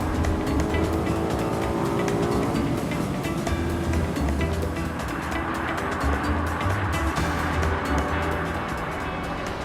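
A Maserati GranCabriolet convertible cruises on the road, giving a loud, continuous engine drone mixed with heavy wind and tyre roar, steady throughout.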